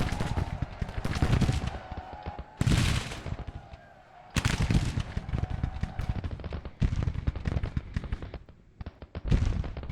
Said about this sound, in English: You got skirmishers firing right into your flank